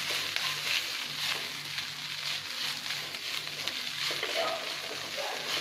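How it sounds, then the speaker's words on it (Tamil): Cooked rice being stirred into a pan with salt for coconut rice, a steady faint scraping and soft sizzle running continuously with a low hum beneath. "இப்போ கேஸ் ஆஃப் பண்ணிட்டு நம்ம வடிச்சு வச்சிருக்கிற சாதத்தை இதில் போட்டு கிளறணும்"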